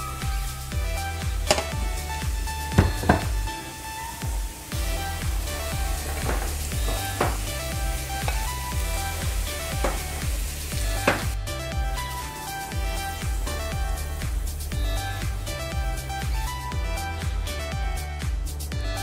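Taro root (arbi) pieces frying in hot oil, sizzling steadily and continuously while a spoon stirs them, with occasional sharp clicks of the utensil against the pan.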